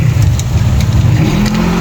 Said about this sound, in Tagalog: So guys, nandito na po yung ambulansya.